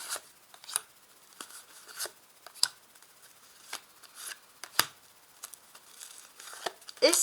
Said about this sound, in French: Donc, je place 5 cartes.